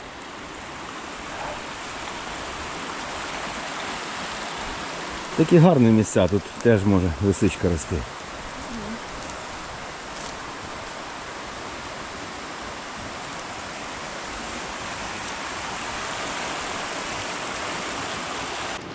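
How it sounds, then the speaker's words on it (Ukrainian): A river stream flows steadily through a Carpathian forest after rain, a broad constant rushing wash heard close, with a brief stretch of someone talking over it. "Знову вийшли до річки."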